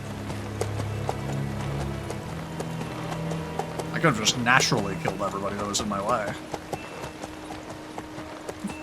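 Horse hooves clip-clop steadily in the rain in Kingdom Come: Deliverance II, with a whinny partway through. Someone talks over the sound for most of it.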